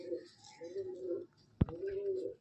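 A Madrasi pigeon with a closed tail coos in a loft: three drawn-out, low, throaty coos, close and clear, with a sharp knock between the second and third.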